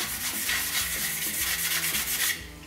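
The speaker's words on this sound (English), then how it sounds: "Of course, we have to sand down a little bit" Sanding the surface of 3D printed parts for a Fortnite-style tactical shotgun build, heard as steady, close, rhythmic back-and-forth strokes of abrasive rubbing that stop near the end.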